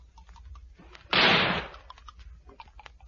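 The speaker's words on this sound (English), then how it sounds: "I'm going to shoot the top of it." A single loud gunshot sound effect from a sci-fi radio drama bursts out as a sharp, roughly half-second blast, with quiet room sound and faint scattered noises before and after.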